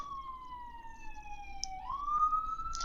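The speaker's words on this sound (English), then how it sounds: "Can you hear the ambulance in the background?" A distant emergency siren in rural Nebraska wails faintly in the background, one long tone gliding slowly downward and then rising again as it passes, with no talking.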